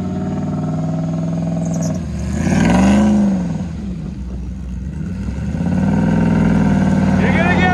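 A Dodge Dakota truck engine hums and revs as the truck pulls forward, a loud close drone that rises and falls in pitch, with voices talking over it.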